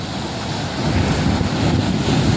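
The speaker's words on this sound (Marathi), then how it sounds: "हा बघा लाट बघा कशी वर येतो, किती मोठी मोठी." Strong wind buffets the microphone as rough, stormy sea waves churn and surge high nearby during fishing, a loud, constant roar that swells slightly midway.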